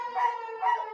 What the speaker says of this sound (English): The dog is working.